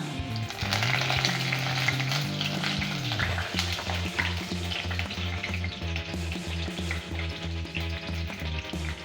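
Crushed garlic and curry leaves fry in hot oil in a pan, giving a steady close sizzle with rhythmic stirring scrapes throughout.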